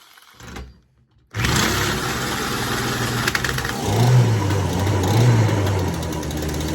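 A two-stroke engine, run as a test of whether it can turn backwards, catches after a brief quiet and holds a loud, buzzing full-throttle roar that swells slightly toward the end.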